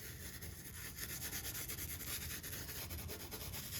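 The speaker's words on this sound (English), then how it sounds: "I'm going to rub it into all those little areas" Glitter being rubbed by hand into tacky adhesive through a craft stencil, a steady close scratchy rubbing that continues without pause.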